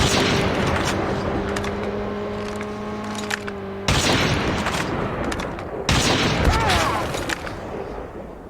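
Gunfire and explosions from the mobile shooter game Call of Duty Mobile, a dense, continuous barrage with steady engine-like drones and sharp bursts that swell at two points.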